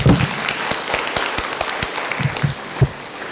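At a session on closing the cancer surveillance gap, the audience claps for three speakers in sparse, scattered hand claps. The clapping is fairly thin and irregular, with a few louder claps near the end and no talking.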